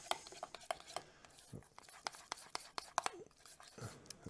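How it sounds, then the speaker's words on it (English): A spoon stirs fresh dill into a Mediterranean meatball mixture, giving soft, irregular scraping and clinking strokes close by, with a faint voice murmuring in the background. "So again, just going to stir this in."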